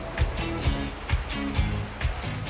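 A raging river in flash flood in Uncompahgre National Forest, a steady roaring rush of turbulent water close by, with surging pulses and splashes recurring about every half second across the clip.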